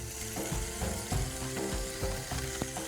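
Bread pieces being toasted in a pan for bread upma, a close, steady sizzle with a regular scraping and stirring rhythm from a spoon against the pan, and no talking.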